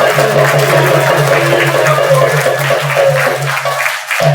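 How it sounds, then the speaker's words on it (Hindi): Audience applause after a Ram Navami drama staged by a youth group, loud and steady for about four seconds over a low hum, then cutting off abruptly. "सभी लोग एक बार जोर से ताली"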